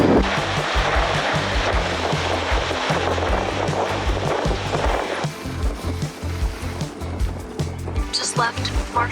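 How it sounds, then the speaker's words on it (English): Waves wash and slap around a sailboat on open water just out of Marsh Harbour in the Bahamas, a loud continuous surge with wind rumble across the microphone and no talking. "Now we are out on the water,"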